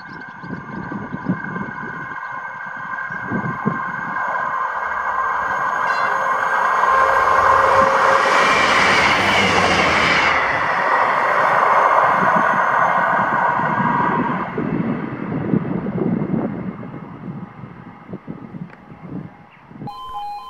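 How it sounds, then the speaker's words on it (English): A ScotRail passenger service from Arbroath to Edinburgh passes near a level crossing, a broad rumbling roar that swells to a peak midway and fades away, with a faint two-tone horn barely present at the start. "This is 1L56, the 1456 ScotRail service to Edinburgh from Arbroath, with the smallest two-tone I think I've ever got."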